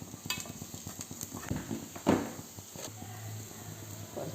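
Spice powders stirred into pappadam roast in a pan: soft scraping and clinks of a utensil against the pan with a faint sizzle underneath, one louder scrape midway, quiet and close.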